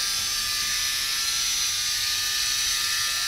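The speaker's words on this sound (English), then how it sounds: "you turn the motor on, then it goes around in circles" A small K'Nex motor drives a flipper loops carnival ride model, giving a steady high-pitched electric whir that runs alone and unbroken for a few seconds.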